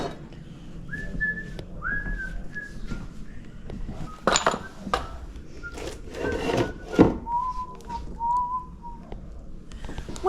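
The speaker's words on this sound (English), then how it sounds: "Whistling again." A person whistles a series of short sustained notes and slides while browsing an estate sale, with scattered clinks and household handling noises around the tune.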